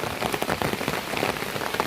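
Rain falls on a tribal village, with dense patter on surfaces and irregular drips, steady and close.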